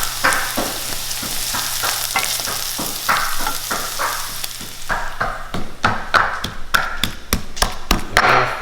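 Chopped onion frying in a pan for a green beans and tomatoes dish gives a steady, close sizzle, broken by repeated sharp taps and scrapes of stirring that grow more distinct toward the end.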